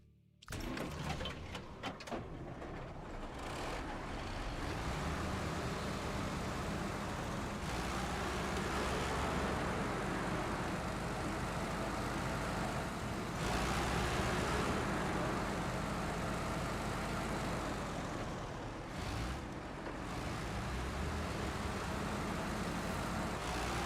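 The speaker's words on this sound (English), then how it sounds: "Old Ford monster truck. That's cool, man. Sounds awesome." The engine of an old Ford monster truck in the video game SnowRunner gives a loud, steady rumble, droning continuously with little change in pitch, after a few brief clicks at the start.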